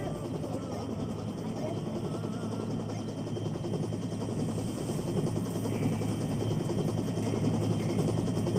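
A helicopter arrives for an evacuation in a VR battle game, its rotor a constant loud droning thrum that holds steady and swells slightly toward the end.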